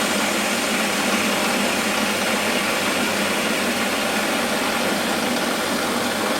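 A Warco metal lathe takes a gentle finishing cut, producing a steady, even motor hum and hiss that holds constant at close range without voices.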